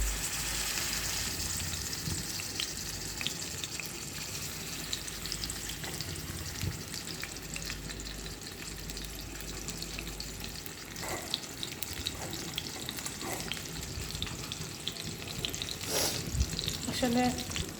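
Fish frying in oil heated on a stove, a steady crackling sizzle running throughout with occasional louder pops and a brief clatter near the end, no talking.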